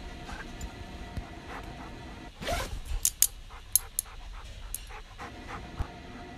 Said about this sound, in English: My god, cute dog.